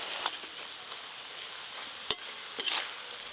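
Raw peanuts fry in hot oil, giving a soft, faint sizzle with scattered crackles and a few sharp stirring clinks against the pan.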